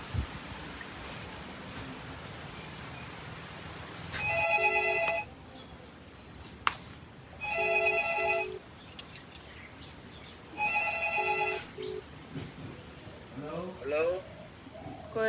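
A phone rings back on an outgoing call, three separate bursts of a bright electronic ring a few seconds apart, clear over a low background hiss, with birds chirping faintly near the end.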